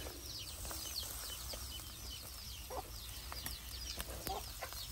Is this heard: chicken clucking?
yes